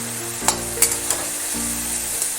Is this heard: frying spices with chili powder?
yes